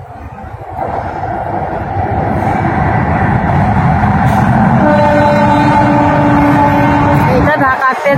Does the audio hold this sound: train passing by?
yes